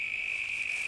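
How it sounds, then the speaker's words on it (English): A steady, high-pitched cricket trill rings continuously outdoors, fairly close, with no other sounds. "Listen to the crickets."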